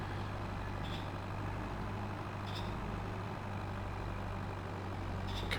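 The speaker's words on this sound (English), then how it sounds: "Obviously the Kramer is not entirely happy about moving this trailer because it is so heavy." Kramer tractor in Farming Simulator 22 labouring to pull a heavy trailer, a steady low droning engine hum with faint periodic hissing, continuous and moderately close, no talk.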